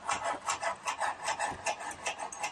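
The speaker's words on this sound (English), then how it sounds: "It's got that buddy putty there, so I'm going to use my wire to cut through this." Wire sawing back and forth through adhesive putty on a van's support beam during a camper window retrofit, a close rasping scrape repeating in steady strokes about five times a second, with no talking.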